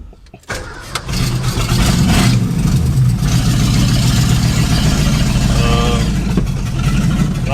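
A swapped-in V8 in an old Ford starts and settles into a loud, deep, rumbling idle with slight revving, close and continuous, with a brief mutter of voice near the end.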